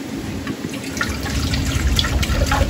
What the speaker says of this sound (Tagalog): Lukuha po ako ng tubig dito sa container.